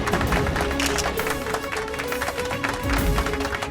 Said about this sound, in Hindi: जोरदार तालियों से स्वागत कीजिए नेहा शर्मा जी का